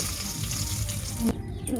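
Eggplant frying in oil, a steady close crackling sizzle throughout, briefly interrupted by a clink near the end.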